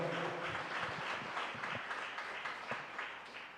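Congregation at a preaching service applauding, a steady wash of many hands clapping that carries through the whole stretch at moderate level, somewhat distant and blended with room echo.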